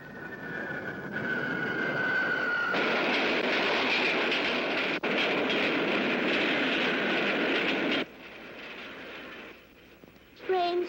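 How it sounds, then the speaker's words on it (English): Train cars rattling and clattering along rails at a city crossing, a loud sustained rumble with clicking texture lasting most of the stretch before cutting off abruptly, followed by quieter ambience. "Trains rattle."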